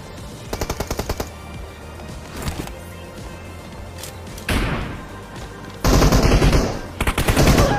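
Gunfire in the video game PUBG during a 2 vs 2 team deathmatch: rapid automatic bursts and loud rattling volleys in quick succession, growing louder toward the end.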